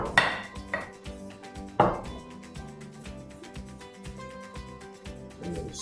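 A spoon works through chopped parsley and Parmesan in a bowl for lasagna filling, making repeated scraping and clinking strokes with a few sharper knocks near the start.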